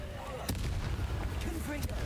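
An Incendio fire spell cast in a Hogwarts video game: a short burst of fiery whooshing and crackling over dense game noise, with one or two sharp impacts.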